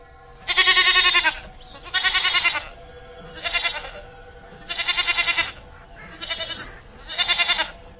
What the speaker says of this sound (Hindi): उसकी बकरियां खुद ही घास चर रही होती हैं।